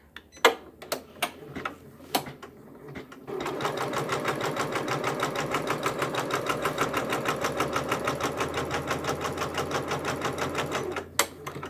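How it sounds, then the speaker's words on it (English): Janome embroidery machine stitching a quilt-in-the-hoop block with appliqué, a steady rapid mechanical rattle that kicks in after a few sharp clicks and beeps, running loud and close for several seconds before stopping with a couple of clicks. "this time to get the machine to start stitching"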